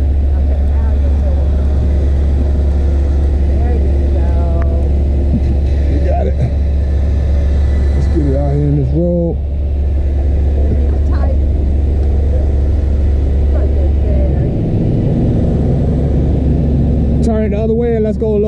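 A car's engine idles steadily through a tow, its constant low drone running beneath close conversation between people.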